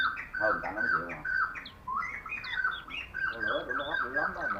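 A caged songbird sings close by in a busy run of bright chirps and quick twittering phrases, with a person talking over and between the calls.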